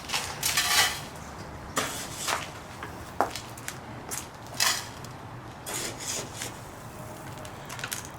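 Coarse soil mix is poured into a bonsai pot for repotting a prostrata juniper, giving several gritty, rushing pours with short pauses, close and fairly loud.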